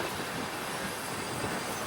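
A long coal-laden goods train, about twice normal length and hauled by a double locomotive in India, rolls past close by in a steady, loud rumble with faint wheel squeal and no voices.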